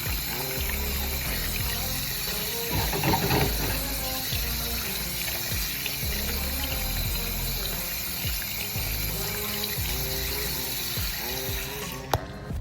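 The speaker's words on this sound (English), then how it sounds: "Wash your hands, people." Hands are washed under a running tap, a steady close gush of water with rubbing and splashing, continuous throughout and ending with a brief clunk.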